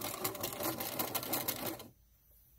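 A sewing machine stitches the leg and foot of a fabric toy in a fast, steady mechanical run of needle strokes, close and clear, then stops abruptly into near quiet.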